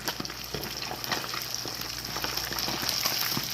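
Fish fillets frying in a pan as they are turned with tongs, a steady close crackling sizzle with small pops running throughout, no voices.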